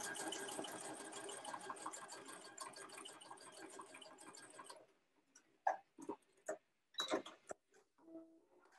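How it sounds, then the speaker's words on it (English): A sewing machine set to a long basting stitch runs along a marked line on a boy's dress shirt. About five seconds of close, steady, rapid stitching are followed by a few scattered mechanical clicks and taps. "So I'm going to push my stitch length up to a 4 for our basting, and then just follow that marking that I made all the way down."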